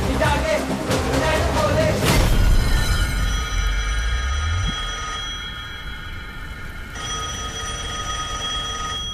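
A telephone rings with a steady electronic tone in a tense Hindi-dubbed action film scene, over a loud booming impact and rumble at first, then continuing on its own at moderate level.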